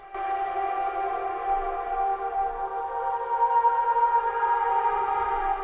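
A smeared, hazy vocal sample with its harmonics washed together into a steady, blurred tone, loud and continuous with no clear words.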